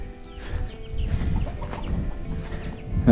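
Chickens clucking close by on a Philippine farm, with young chicks among them; soft overlapping clucks run steadily through, with a louder burst of calls at the end.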